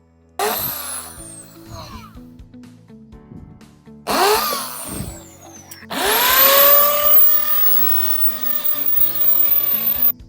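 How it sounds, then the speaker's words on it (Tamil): A tool cuts a hole for a pipe on a motorcycle during a diesel turbo build, heard as three loud grinding bursts, each with a rising whine, separated by short gaps, the last one longest and steadiest. "இன்னுக்குள்ளே ஓட்டை போட போகிறோம் இங்கே தான் அந்த பைப் கரெக்டாக ஃபிட் ஆகுது"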